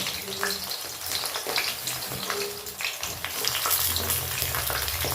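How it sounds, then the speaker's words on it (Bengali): Long-cut eggplant strips fry in hot oil, giving a dense, loud, steady sizzle and crackle with occasional stirring or shifting noises. "ভেজে নেবো বেগুন"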